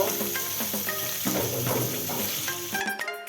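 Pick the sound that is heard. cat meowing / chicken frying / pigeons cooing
chicken frying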